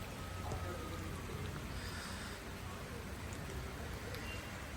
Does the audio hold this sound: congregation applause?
no